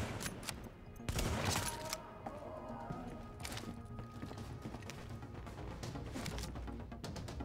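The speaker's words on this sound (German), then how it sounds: "Warte, die schießen auf die Zivilisten." Gunfire crackles through a dense, busy mix in Tom Clancy's The Division, with a louder burst of shots early on and steady clatter continuing throughout.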